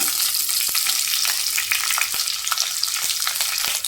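Chopped green chillies sizzling in hot oil for suji rava upma, a steady bright frying hiss with scattered pops and crackles, close and continuous with no talking.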